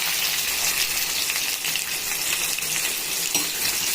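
Sliced onions and green chilies sizzle in hot oil with fennel for a squid pepper fry, a steady bright crackling hiss close by with occasional stirring scrapes.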